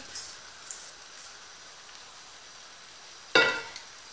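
Onion and potato tortilla frying over medium heat in a lightly oiled pan, a faint steady sizzle running throughout, broken near the end by a brief louder clatter.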